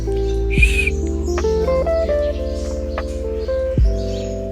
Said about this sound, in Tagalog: Puti siyang ibon.